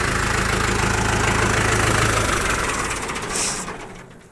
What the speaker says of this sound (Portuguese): deixa eu desligar esse trator aqui